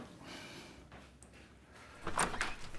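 A door is opened as someone lets themselves in, with a soft creak and then a sharper click and rattle of the latch near the end, close by in a quiet room.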